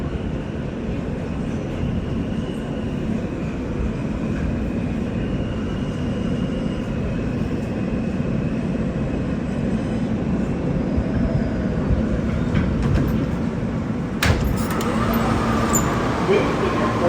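Steady, loud rumble of an R160A R subway train running between Roosevelt Avenue–Jackson Heights and Woodhaven Boulevard in New York, with continuous wheel and track roar throughout and a brief sharper rattle near the end.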